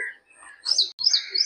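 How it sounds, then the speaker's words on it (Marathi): Sparrows chirp near a lake on a forest walk toward a hidden waterfall in Thane, a few short, bright bursts of twittering with brief pauses between them, fairly close and with no one talking. "आणि चिमण्यांचा आवाज सुद्धा येत आहे इकडे"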